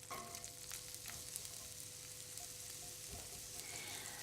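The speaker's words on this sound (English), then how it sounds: "There's that lovely sizzling sound" Onions sizzle steadily in a hot frying pan, a soft continuous crackle with an occasional scrape, no voices.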